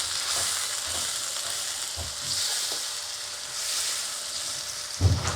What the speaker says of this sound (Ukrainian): Але кипить так активно. Бо сковорідка гаряча.